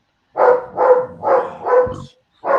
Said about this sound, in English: Every time the dog barks, I'm not sure which one it is.